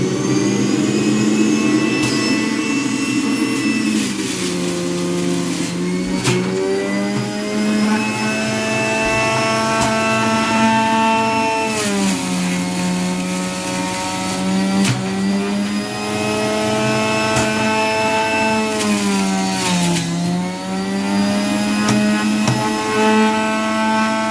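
A Breville JE2 centrifugal juicer runs continuously with a loud, steady motor whine and roar, its pitch dipping and recovering as produce is pushed through, with no speech over it.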